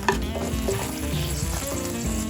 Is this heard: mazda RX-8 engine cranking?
no